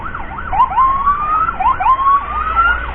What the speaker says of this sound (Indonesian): mohon menunjukkan kendaraannya, Pak, ambulans emergency